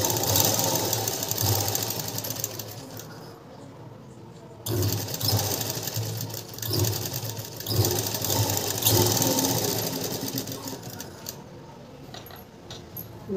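A sewing machine stitches a blouse lining in bursts of rapid mechanical whirring, with short pauses between runs, close and fairly clear, and someone talks over parts of it.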